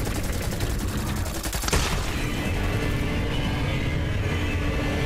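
Sustained rapid gunfire from Zane's clone and drone in Borderlands 3 on Mayhem 11, a dense continuous hail of shots with a heavy impact partway through, loud and close throughout.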